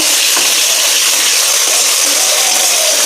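Spice masala frying in oil in a pan before fish, potatoes and cauliflower go in, a loud, steady close-up sizzle and hiss with no one talking.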